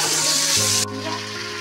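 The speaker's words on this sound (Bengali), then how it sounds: "আলুগুলো একটু ভাজা ভাজা হোক" Potato pieces fry in a pan with a loud, steady sizzle that drops off sharply partway through and gives way to a quieter bubbling hiss.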